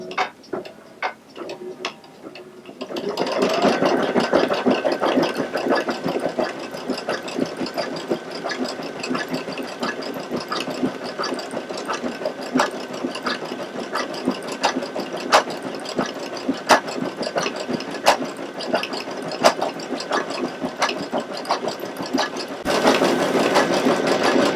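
A Baby Lock embroidery machine stitches a yarn couching design with a steady, rapid mechanical ticking and rattle that starts after a few quiet seconds and runs on continuously at moderate volume.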